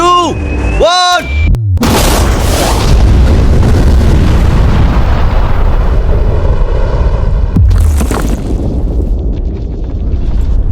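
A huge real explosion blows up a safe, a massive boom with a long roaring rumble that fills the air, heard after a few rising tones and followed by a second sharp blast.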